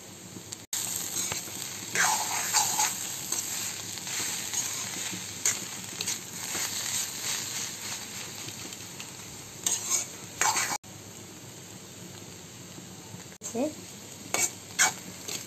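Shredded cabbage frying in ghee with ground roasted cumin, a constant soft sizzle under frequent scraping and clattering of a spoon stirring against the pan.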